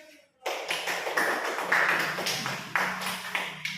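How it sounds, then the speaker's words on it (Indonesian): Clapping from a small group after a classroom presentation: after a brief quiet start, hands clap in a lively, close burst that continues with uneven swells to the end. "Nanti tepuk tangan."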